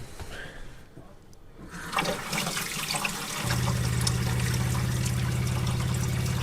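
Hot water running from a tap fed by a Truma D6E heater, a steady rushing flow that starts partway in and continues loud and even to the end after a quieter stretch of faint background noise.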